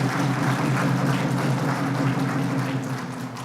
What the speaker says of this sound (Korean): 그들에게도 박수 한번 보내주시기 바랍니다